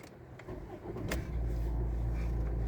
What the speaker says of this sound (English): I'll start the engine just to make sure